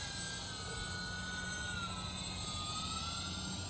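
A UMX C130 radio-controlled model airplane flies indoors with a steady, continuous high electric whine and a constant motor drone throughout, close and unbroken.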